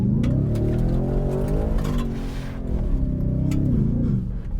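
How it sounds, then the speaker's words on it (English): A Ford F-150 Raptor R with a supercharged V8 in all-wheel drive launches hard on dirt, its engine roaring loud and near, rising in pitch, dipping briefly, then climbing again as it accelerates. "that was just like a all-wheel drive supercharged V8 launch in the dirt"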